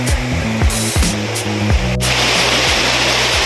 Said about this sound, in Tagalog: Lapitan natin yung falls.